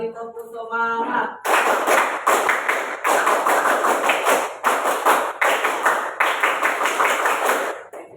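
A classroom of junior high science students claps in a rhythmic spirit cheer, loud, crisp bursts of synchronized clapping repeated in a steady pattern after a brief tone at the start.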